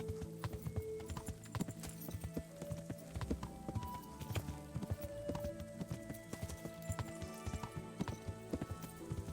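Steady clip-clop of a ridden horse's hooves in Kingdom Come: Deliverance, rhythmic and close, continuing without pause over a dense layered game soundscape with no one talking.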